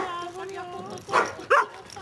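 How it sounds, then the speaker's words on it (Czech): A dog gives two short sharp barks, close and moderately loud, over a hum of background noise while a person talks beforehand. "to byl ten náš pes."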